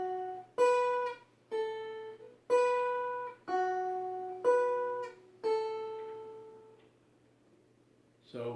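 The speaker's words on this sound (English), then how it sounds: "So the melody of Shortening Bread goes." The Shortening Bread melody is picked on the melody strings as seven or eight separate plucked notes, each ringing and decaying, clear and close over a faint steady hum, then a pause.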